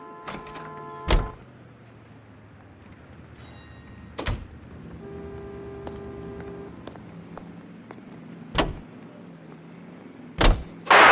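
Car doors in L.A. Noire slam with sharp thuds, spaced several seconds apart, over a low engine hum and faint mechanical whirs as the car starts off; no talking.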